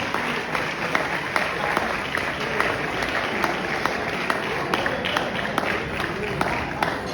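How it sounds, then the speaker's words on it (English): Audience applause after a speech at a women's auxiliary formal ball, steady dense clapping with sharp individual claps standing out throughout, fairly close and sustained, with some crowd voices mixed in. "Let's give another round of applause for Savannah"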